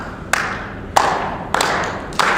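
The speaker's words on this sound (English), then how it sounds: "You guys clap. 1, 2." A group claps a steady beat, four sharp claps spaced roughly evenly, close and moderately loud over a low background murmur.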